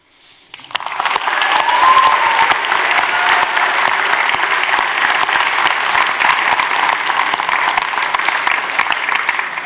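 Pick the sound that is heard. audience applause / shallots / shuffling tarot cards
audience applause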